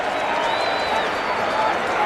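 A packed lacrosse stadium crowd at a 2011 NCAA men's game between Virginia and Syracuse jeers as Virginia players head to the penalty box: a steady, loud wash of voices and noise with a thin whistle-like tone running through it.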